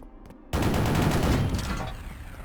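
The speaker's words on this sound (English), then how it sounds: "This is a micro-missile launcher that fires 8 at once." A micro-missile rocket launcher in the Quake video game fires eight missiles at once, a sudden loud burst of overlapping blasts that swells and then slowly fades.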